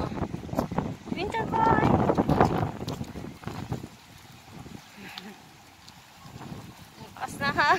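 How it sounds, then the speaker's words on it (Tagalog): Strong gusts buffeting the microphone with a low rumbling roar, rising and falling, while people talk and exclaim over it. "Lakas na hangin."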